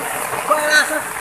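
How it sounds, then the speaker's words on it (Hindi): Heavy, dangerous rain pours outdoors in the wild, a brief broadband wash of splashing water with a voice talking over it. "देखिए बारिश बहुत खतरनाक है।"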